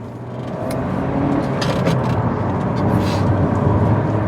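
Nissan Pulsar 1.2 DIG-T turbocharged petrol engine accelerating from a start, a steady rising engine drone heard from inside the car, growing louder and holding through the run with no talk.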